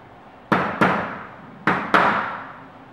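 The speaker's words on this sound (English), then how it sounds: "the hammer I'm using does not have a metal edge on it. It has a plastic side and rubber side." A mallet with plastic and rubber faces taps a panoramic door frame, giving four sharp, close knocks in two quick pairs with short ringing decays.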